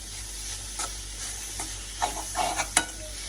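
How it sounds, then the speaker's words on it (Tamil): Fried fish being stirred and mixed in a pan, soft sizzling under scattered scrapes and clinks of the utensil, growing busier toward the end. "போட்டு நல்லா மிக்ஸ் பண்ணிடுவோம்"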